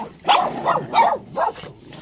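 A small, timid Teddy-type dog gives three sharp, high yappy barks in quick succession, close and alone.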